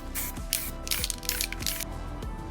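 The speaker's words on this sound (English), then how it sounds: "So let's spray paint another layer on it." An aerosol can hisses in several short sprays of paint onto a WW2 M1 helmet, separated by brief pauses, over a faint mechanical rattle and clicking.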